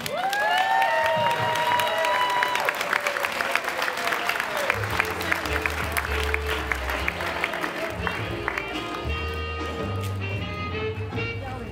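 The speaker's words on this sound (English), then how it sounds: "let's give a big round of applause for our very own funny lady, Joey Sims" Audience applauds and cheers for comedian Joey Sims, a dense wash of clapping that holds steady for the whole stretch, with a voice and sustained tones rising over the crowd early on.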